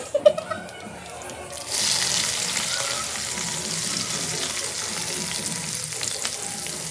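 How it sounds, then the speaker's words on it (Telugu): Mustard seeds splutter in hot oil. After a few small taps, a steady, close sizzle with fine crackling swells up and holds, while a voice speaks over it. "ఆవాలు మరిగిపోయింది, ఆవాలు చుట్టట్లు ఆడుతున్నాయి"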